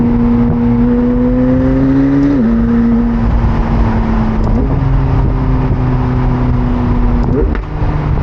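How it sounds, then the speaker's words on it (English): McLaren 720S Spider supercar engine droning loudly from inside the cabin while driving, with its pitch stepping down through gear changes and a short crackling backfire near the end. "And that backfire."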